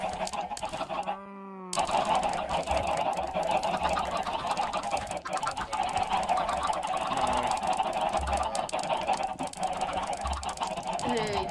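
Chickens in a video game squawk and cluck almost continuously, loud and busy, over a dense layer of game noise.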